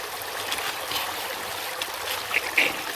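Water trickles and splashes steadily through a recirculating gold drywashing rig out in the desert, a soft continuous flow with a couple of brief brighter splashy bursts near the end, heard up close and alone.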